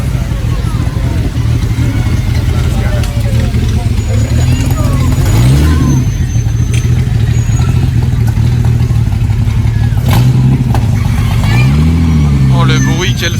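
Car engine heard loud and close in a Monaco street setting, with a constant roar and two rising revs, while people talk over it.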